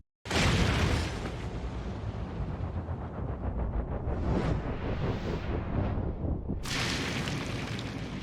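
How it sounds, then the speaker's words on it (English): A Bob-omb blows up to destroy a rock in Paper Mario: The Origami King, a loud booming game explosion that bursts in abruptly and rumbles on steadily with a sustained crackling roar. "Inside the box is a fuse, which he uses to sacrifice himself to destroy the rock."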